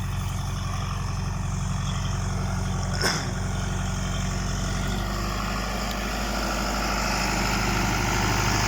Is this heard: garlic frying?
no